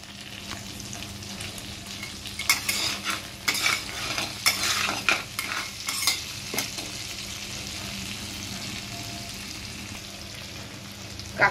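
Crab curry cooking in a pan, sizzling steadily while a utensil scrapes and stirs in bursts of clattering strokes through the middle, then settles back to a constant fry, with no talking.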